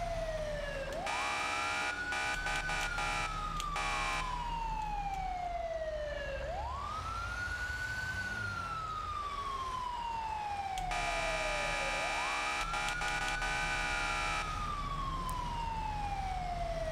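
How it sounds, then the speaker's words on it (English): Fire truck sirens wail in the GTA 5 video game, loud repeated rising and falling sweeps with rapid yelp bursts between them, steady and close throughout, with no talking. "Let me hit these sirens."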